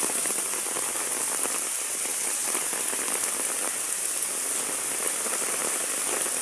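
Very heavy rain pours down in a loud, dense, unbroken hiss of drops drumming on surfaces. It stays constant throughout, with no voices.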